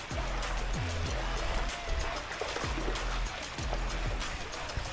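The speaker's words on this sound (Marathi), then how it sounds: "जे पण पाणी तिथं राजाराम तलावाला भरते त्याच इकडं बाहेरून असं ओव्हरफ्लो होऊन या साईडला बाहेर निघून जाते" Lake water overflowing from Rajaram Lake in Kolhapur and pouring out the side channel, a constant loud rushing flow under low rumbling background noise.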